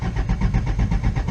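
A 1977 Toyota Celica RA29 engine cranks with a loud, rhythmic starter churn pulsing in even beats, close up, while the engine tries to catch.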